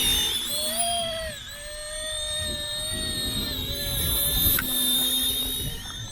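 An ERA C190 radio-controlled model helicopter flying in wind, its high whining motor and rotor tone steady and fairly loud, with pitch bending and rising as it speeds up and drifts.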